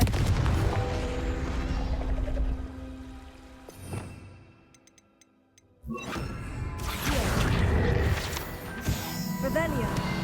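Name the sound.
Confringo blasting spell explosions in Hogwarts Legacy video game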